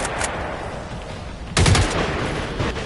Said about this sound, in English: Unload your clip on them and then move.